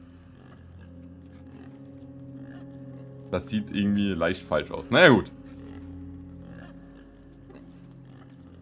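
A pig grunts in the video game Inside, a few short snorting bursts in the middle, fairly close, while someone talks over the game sounds before and after.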